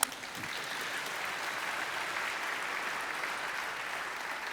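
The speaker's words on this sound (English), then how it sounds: "yeah, you can clap for that" An audience at a talk on Hawaiian language and culture claps, a soft, even spread of many hands sustained at a distance for several seconds.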